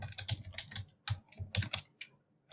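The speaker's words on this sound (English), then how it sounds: "We're typing the same stuff over and over here." Someone types on a computer keyboard while writing C++ code, with quick irregular bursts of key clicks and short pauses between them, close and fairly quiet.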